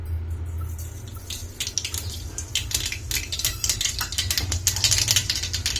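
Mustard seeds crackle and pop in a few teaspoons of hot oil in a heated kadai, a dense run of sharp, close clicks that grows busier over several seconds, with no talking.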